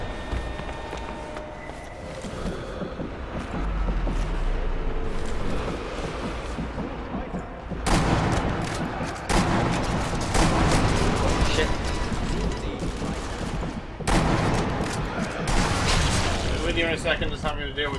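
Gunfire and battle noise in the video game Sniper Elite V2, bursts of shots and loud impacts over a dense, continuous rumble, with a player talking at times throughout.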